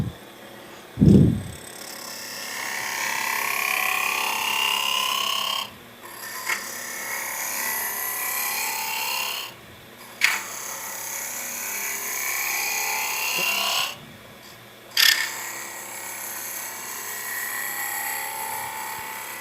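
A wood lathe spinning at speed as a carbide negative rake scraper cuts a wooden Christmas ornament gives a steady loud whine and scrape, broken by short pauses and sharp knocks.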